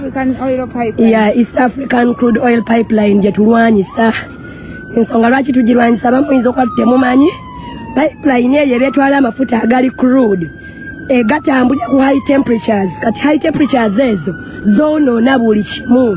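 An ambulance siren wails as it passes, its long rising and falling tone sweeping steadily through the whole stretch beneath someone speaking continuously and loudly in the foreground.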